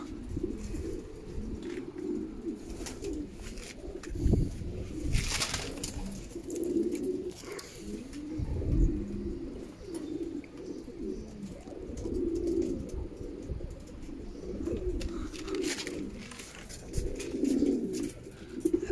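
Racing pigeons, arriving at the end of a 290 km race, coo repeatedly in soft, low rounded calls, fairly close, with occasional rustling and light background noise.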